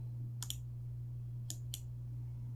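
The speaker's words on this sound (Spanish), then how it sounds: "voy a dar clic aquí y colocar" A few crisp computer mouse clicks sound close and quiet while someone works in Illustrator: one double click, then two single clicks, over a steady electrical hum.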